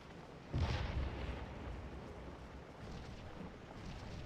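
Artillery opening fire in the Civil War battle game Scourge of War, one deep distant boom followed by a low rumbling battlefield din, quiet overall with no voices.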